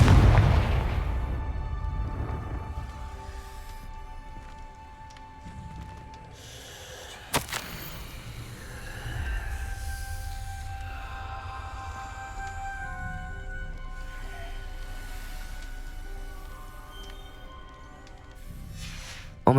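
A Confringo fire spell in the Hogwarts Legacy game goes off as a single sharp blast about a third of the way through, then a swelling magical rumble and drawn-out tonal hum. Game ambience and music carry on underneath.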